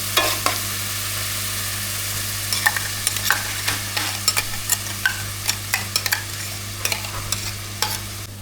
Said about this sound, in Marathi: तेल सुटेपर्यंत आपल्याला शिजवायचं.